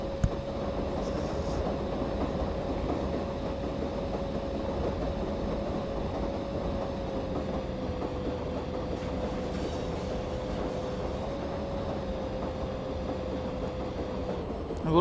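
Karnataka Express train running fast between Ratlam and Palwal, a continuous loud rumble with a steady whine, heard from inside the train without talk.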